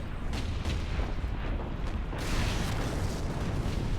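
Gunfire and explosions in the video game Space Marine, making a continuous dense roar of booming blasts and rapid shots, loud and steady throughout with no talking.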